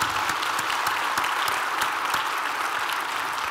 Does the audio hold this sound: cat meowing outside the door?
no